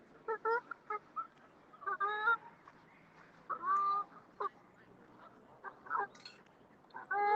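Birds call outdoors in a series of short, honking, goose-like cries, spaced irregularly and fairly distant, with quiet gaps between bursts.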